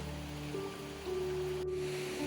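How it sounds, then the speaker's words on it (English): Waterfalls on the Kumano Kodo pilgrimage trail in Japan give off a steady rush of water, a continuous wash of noise heard from a moderate distance with a faint tonal hum underneath and no voices. "There's something hypnotic about the sound of rushing water"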